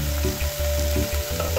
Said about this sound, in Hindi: तो अभी इसे हम लोग थोड़ी देर कुक कर लेते हैं, 2-3 मिनट के लिए अच्छे से ढक करके।